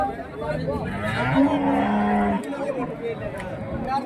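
A cow moos loudly with a long, drawn-out low call amid the background hum and chatter of a busy cattle market in Karimangalam, Dharmapuri district, Tamil Nadu.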